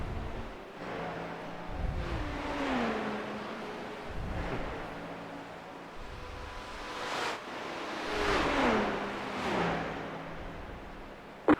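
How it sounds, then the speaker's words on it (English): A car sweeps past nearby on a road from Miami with a rising then fading whoosh of tire and engine noise, followed by more passing traffic over steady road rumble. "Car on your right. Clear on the right."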